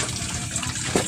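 Water poured for bathing, a steady splashing, rushing flow of cool water that carries evenly through the clip, with a slightly louder splash near the end.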